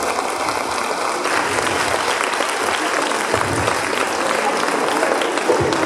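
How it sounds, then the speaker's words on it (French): Sustained applause from an audience, dense and steady clapping that continues throughout without pause. "On peut applaudir Solène."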